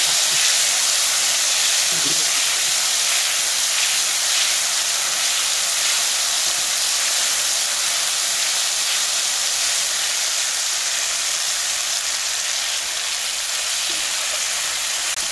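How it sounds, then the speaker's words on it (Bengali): Spices frying in hot oil for a rai shak dish, a continuous loud sizzle and hiss that stays steady throughout, with no talking over it. "এই মশলা ভাজিলে নিই"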